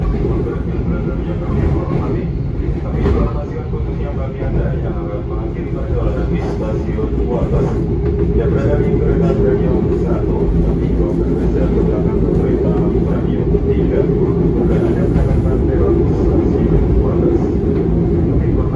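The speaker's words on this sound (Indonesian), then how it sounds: "ini sesaat lagi untuk kereta api Jayakarta Premium akan tiba di stasiun Wates ya" The Jayakarta Premium passenger train rumbles steadily close by as it arrives at Wates station in Indonesia, a low continuous roar of wheels and engine with people talking over it throughout.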